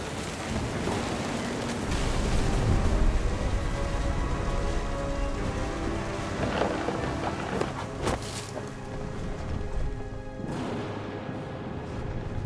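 Heavy rain pours steadily through a stormy night in the video game What Remains of Edith Finch, with deep rumbling thunder rolling underneath and a few sharp cracks standing out near the end.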